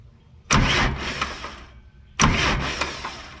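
John Deere 310 SE backhoe starter cranking without the engine catching, two separate bursts of whirring, about a second each, close and loud with quiet between.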